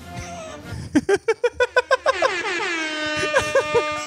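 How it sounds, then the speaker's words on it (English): A loud air horn blares a rapid string of short honks, then slides into a long wavering tune of horn notes. "I meant to hit the air horn the first time."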